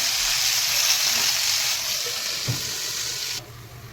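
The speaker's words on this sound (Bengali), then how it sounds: "বন্ধুরা আমি এই মিচুরিগুলো এবারে ভাজবো" Malabar spinach stems frying in a pan, a constant close sizzle and crackle with a faint knock of stirring, the hiss dropping suddenly near the end.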